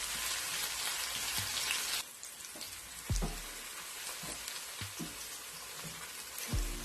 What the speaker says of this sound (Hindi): और मैं इसको गोल्डन लाइट ब्राउन फ्राई करूंगी।